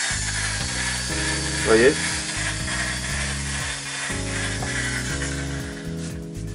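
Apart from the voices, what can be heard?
slow power drill turning a homemade paddle mixer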